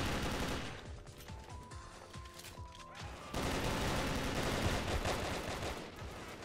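Continuous rapid gunfire from a Brick-Force team deathmatch game: dense automatic bursts overlapping throughout, growing louder and busier midway.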